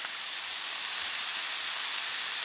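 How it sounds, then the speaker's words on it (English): Oil sizzling steadily in a hot pan during outdoor camp cooking with teriyaki, a continuous bright hiss that holds even and close throughout with no talk. "I'm gonna dump a little oil in."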